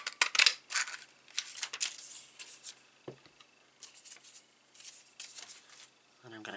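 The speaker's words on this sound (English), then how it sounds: "I've also got a piece of vellum, which I'm going to punch one of these out in vellum as well" A craft punch snaps a butterfly shape out of a sheet of vellum with a single sharp crunch, among soft paper rustling and light handling taps, close and quiet.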